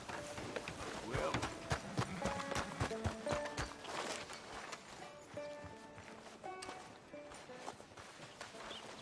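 Horse hooves gallop in a steady rapid clip-clop rhythm through the Western open-world game Red Dead Redemption II, loud and close, with game music and effects layered underneath.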